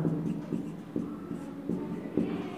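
Writing on a board during a geometry lesson produces soft, regularly spaced scratchy strokes, about one every half second, quiet and steady over a faint room hum.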